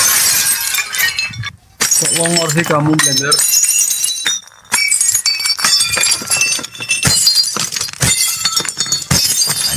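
Plates smashed one after another, with repeated sharp crashes and shattering breaks scattered through the clip, mixed with loud talking.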